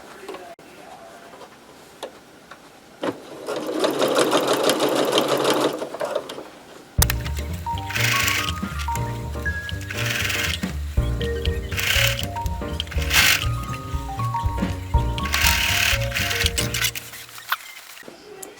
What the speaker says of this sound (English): drop my needle back down. And start sewing again